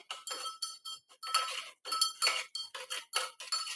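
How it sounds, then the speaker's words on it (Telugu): Onion and green chillies go into a hot tempering pan for a ridge gourd curry, with a quick run of sharp metallic clinks and scrapes of a spatula against the pan, close and lively, with no talk. "ఆనియన్ పచ్చిమిర్చి వేసుకోవాలి"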